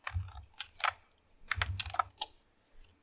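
Fingers typing a password on a computer keyboard, close, crisp clicks in two quick bursts separated by a short pause, then a few final taps in a quiet room.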